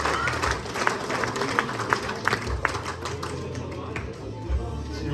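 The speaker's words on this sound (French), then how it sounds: "on peut quand même l'applaudir" Scattered clapping from a small group of guests at a dinner celebrating an organisation's 70th anniversary, uneven and moderately loud over steady room chatter and murmur for about five seconds.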